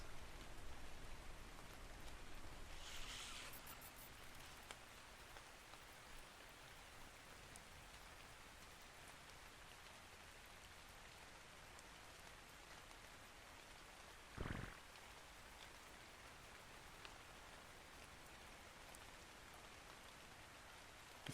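Steady rainfall in the video game ARK: Scorched Earth, a soft continuous hiss of drops, faint and even throughout, with a brief louder burst early on and a short sharp sound midway.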